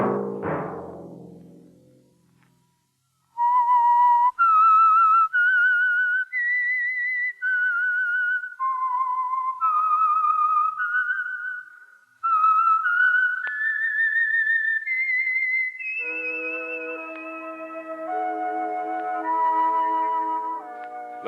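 A lone person whistles the eerie theme tune of The Whistler radio program, clear sustained melodic notes rising and falling in phrases after a brief musical sting, ending with soft orchestral accompaniment.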